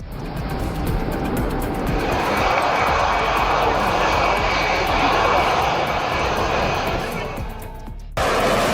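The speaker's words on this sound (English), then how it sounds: "Turkish F-16 giving the plane spotters the ultimate low pass." A Turkish F-16 fighter jet makes a low pass, a loud, sustained roaring jet noise that swells and holds for several seconds before cutting off sharply near the end.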